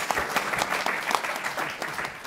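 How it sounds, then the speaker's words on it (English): A forum audience gives a brief round of applause to a distinguished panel, a steady burst of many hands clapping together at moderate loudness. "Let's give a round of applause to this distinguished panel."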